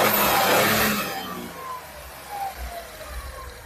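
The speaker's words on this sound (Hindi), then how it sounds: "तो कुछ ऐसा साउंड सुनने को मिलता है आपको नेक्सॉन पेट्रोल इंजन में।" A Tata Nexon's 1.2-litre three-cylinder turbo petrol engine runs nearby; a loud, rough burst at the start fades within a second and a half into a quieter, steady idle hum, with no talking.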